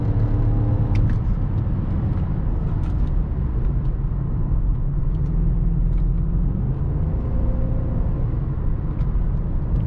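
A BMW X5 E53 4.4i V8 SUV cornering at around 100 km/h, heard from inside the cabin as a loud, steady low engine and road rumble without pause.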